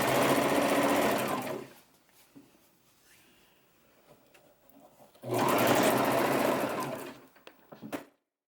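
A sewing machine stitches a salwar top in two loud, steady bursts of rapid whirring close by, separated by a quiet pause with faint handling of fabric.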